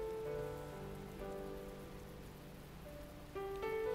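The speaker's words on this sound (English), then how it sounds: "I know it's rain, but you know, it sounds like you could be deep frying something." Steady rain patters on a surface, a soft continuous crackling hiss with faint tonal hum in the background, no voices.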